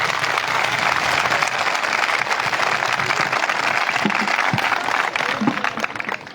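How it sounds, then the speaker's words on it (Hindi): Audience applause at a school event during an MLA's visit to his childhood school: dense, sustained clapping from a large crowd, loud and even throughout before tapering slightly at the end. "एक बार फिर जोरदार ताली।"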